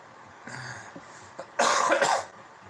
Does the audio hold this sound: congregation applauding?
no